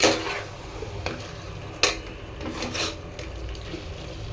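Chicken stirred into masala in a pan, with a quiet bed of frying under a few scraping, rasping spoon strokes and light metallic knocks against the pan.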